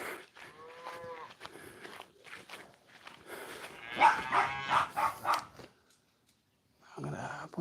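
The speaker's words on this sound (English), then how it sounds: "There's always gonna be a few cows that don't want to listen." Farm cattle moo repeatedly at close range, with several separate calls broken by short gaps, while footsteps and other animal noises mix in around them.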